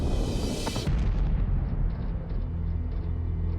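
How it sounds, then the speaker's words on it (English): Coalition bombs and missiles exploding over Baghdad at night at the start of the Desert Storm air war, a heavy, continuous low rumble of distant blasts with deep booming thuds rolling on throughout. "coalition bombs and missiles light up the sky over Baghdad"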